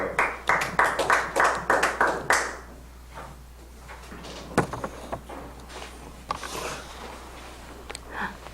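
A church congregation clapping, a quick burst of loud, fast handclaps in the first few seconds that dies away into quiet room noise with scattered thumps and faint sounds.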